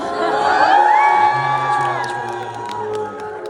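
A large crowd of fans at a fan meeting cheers and screams loudly and continuously, with high-pitched whoops rising above the roar.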